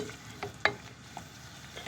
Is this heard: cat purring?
no